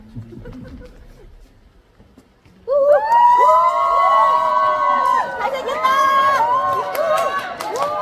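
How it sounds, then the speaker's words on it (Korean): Fans at the Incheon youth song festival burst into loud, shrill screaming and cheering for a trot singer as he drinks water on stage. A quiet voice comes first, then the sustained crowd cheering takes over. "이렇게 물 마시기만 해도 이렇게 팬분들이 박수를 막 쳐주시고 막 이래요"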